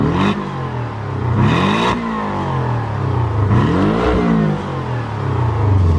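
Porsche 911 GT3 with a 365-horsepower engine, a red car on a race track, revving hard through several rising pulls with gear changes, loud and close.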